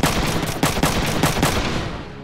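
Machine gun fire in the mecha strategy game Front Mission 3: a sustained, loud burst of rapid automatic shots with several sharper bursts standing out, filling the whole stretch and fading slightly at the end.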